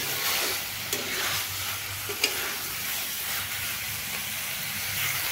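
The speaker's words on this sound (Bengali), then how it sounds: "রাজমা ও মশলাগুলোকে ভালোভাবে কষিয়ে নেব" Rajma and spices frying in a pan for a dhaba-style curry, a steady sizzle and hiss with occasional scrapes of stirring, fairly close and without talk.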